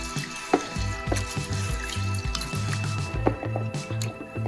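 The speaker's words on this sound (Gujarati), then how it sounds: "તો હવે આ ખરાબ પાણી કાઢી અને આપણે બીજું પાણી અંદર એડ કરી ફરીવાર વોશ કરી લેશું" Rice and moong dal being swished and rinsed in a bowl of water, with soft repeated sloshing, squishing and dripping sounds close by, steady and fairly quiet with no talking.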